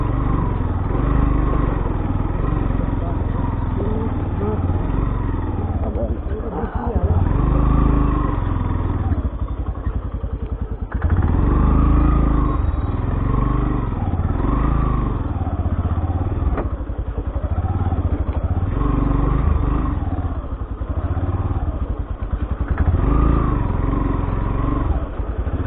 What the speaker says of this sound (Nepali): बाइक 1 गियरभन्दा दोस्रो गियरमा गएको छैन